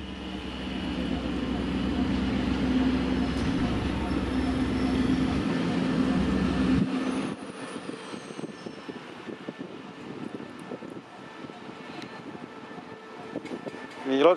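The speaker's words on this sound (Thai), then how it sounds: "ขบวนด่วนดำนะครับ กำลังอัดมาเลยแรง" An express train rushes past close by at the Bang Sue rail underpass, a loud sustained roaring rumble of wheels and cars for about seven seconds that drops abruptly to quieter rattling and clanks as it goes by.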